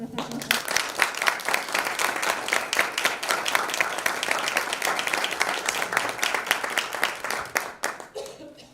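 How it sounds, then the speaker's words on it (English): A school board meeting audience gives a sustained round of applause, many hands clapping steadily and fairly close for several seconds before the claps thin out and stop. "give a round of applause"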